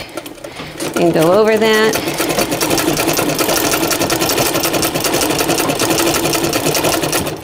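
A sewing machine without reverse stitches a caftan seam with a fast, steady, loud mechanical whir and clatter, while a voice speaks over the start of the run.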